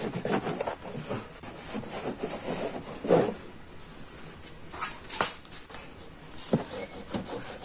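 Cloth rubbing polish solution across the plastic dashboard of a Honda Activa scooter at home, close repeated back-and-forth scrubbing strokes with a rasping texture, moderately loud, with a few sharper knocks, no talk.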